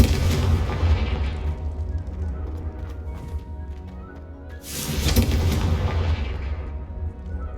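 Two heavy booming blasts from the Confringo fire spell in the Hogwarts Legacy video game roll out and fade, loud and broad, with game sound continuing between them and no clear speech.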